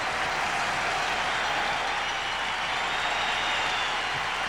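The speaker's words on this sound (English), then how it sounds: "But the crowd giving the Blackhawks a standing ovation." Hockey arena crowd applauding the Chicago Blackhawks in a sustained standing ovation at a 1990 playoff game against the Edmonton Oilers, a dense, even roar of clapping and cheering throughout.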